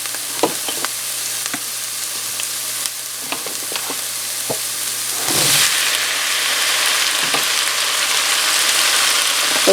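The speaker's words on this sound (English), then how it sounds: "Okay, I'm going to go ahead and add the zucchini and tomato." Zucchini and tomato sizzling loudly in a hot frying pan, a close steady hiss with scattered pops and stirring scrapes that swells to a fuller sizzle partway through, with no talking.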